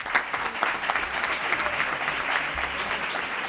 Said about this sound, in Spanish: Un fuerte aplauso para los equipos que han llegado a la final